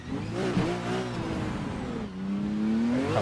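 Drift car engine in the racing game Assetto Corsa, revving and accelerating steadily with rising and falling harmonic whine, loud and close throughout, no talking.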